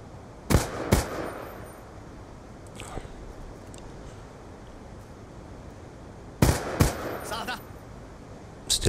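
A Scar rifle without the FMJ attachment in hardcore Black Ops 2 fires two quick shots, then after a pause another sharp pair, loud and close over game ambience, with a voice talking faintly underneath.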